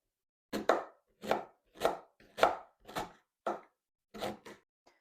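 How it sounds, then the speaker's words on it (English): A knife chops through rhubarb stems on a cutting board, eight or so crisp, separate thuds in a steady rhythm, close and clear with no talk. "I'm just gonna cut down the middle and then chop just like this"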